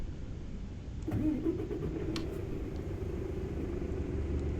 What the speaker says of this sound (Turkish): Arabamızı çalıştırıp seyir rotamızı izleyip yolumuza çıkalım.